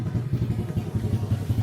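A homemade 110cc motorcycle engine with a vintage look idles with a steady, rapid popping putter, close and fairly loud, running evenly throughout with no voices.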